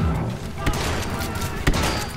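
Rocket and shotgun fire in the Star Wars Battlefront II campaign, a dense fusillade of gunfire with two sharp booming blasts standing out over continuous battle noise.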